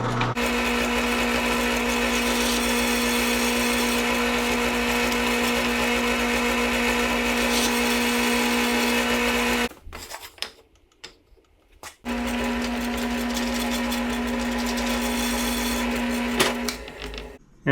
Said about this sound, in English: That's a 1/4 inch bit in the drill press.